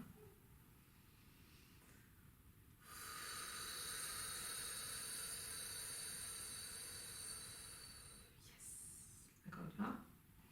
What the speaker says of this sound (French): quelques respirations en bas du ventre